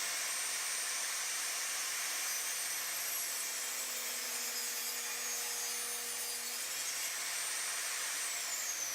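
A table saw cuts plywood pieces guided along its fence, giving a continuous, fairly loud whining, rasping cut that holds steady for about nine seconds with no talking.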